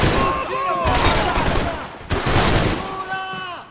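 Gunfire crackles in the Max Payne 3 video game as a dense, loud burst of shots and impacts with glassy shattering, briefly broken by a pause before the firing resumes. A voice speaks over it.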